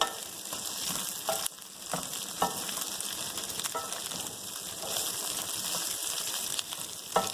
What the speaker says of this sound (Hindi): हम इसे फ्राई करेंगे इसी ऑयल में। 1-2 मिनट हम इसी तरह इसे फ्राई करेंगे अच्छी तरीके से।